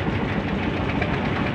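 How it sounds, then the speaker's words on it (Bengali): A trawler boat's engine running on open water, a loud, dense, steady rumble with a faint rhythmic knock, heard close throughout with no voices. "লিপসার উদ্দেশ্যে ট্রলার ছেড়ে দিল"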